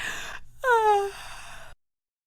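A girl lets out one long, drawn-out yawn at bedtime, a voiced sound that slides down in pitch and then trails off into silence.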